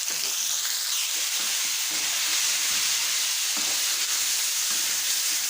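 Chicken pieces stir-fried in a hot pan for a ginger chicken dish, a loud, continuous sizzle with a bright hiss and occasional scraping stirs, no voices over it.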